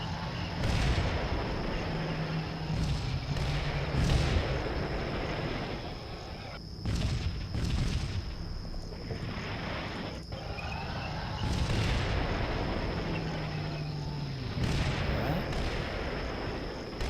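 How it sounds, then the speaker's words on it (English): Mortar barrage in the video game Combat Mission: Shock Force 2: repeated explosive booms thud one after another across a constant battle din, with rumbling impacts recurring every few seconds throughout. "Ready, mortars are still falling."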